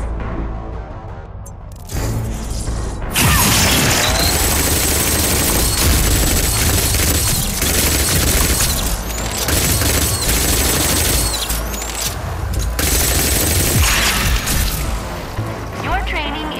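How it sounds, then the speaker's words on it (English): Grav Dart Launcher firing in overdrive at simulated enemies in a training simulation in a video game: a loud, dense, continuous barrage of rapid shots and impacts that runs almost the whole clip after a quieter opening. "Use the Grav Dart Launcher's overdrive against the simulated enemies."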